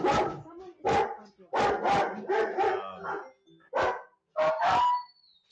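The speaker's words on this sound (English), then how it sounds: "You have a dog too." German Shepherd barking indoors during a conversation, a run of loud, close barks in bursts with short gaps between them.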